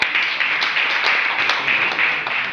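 Audience clapping at a household-appliance sales presentation, steady mid-sized applause sustained throughout without a break.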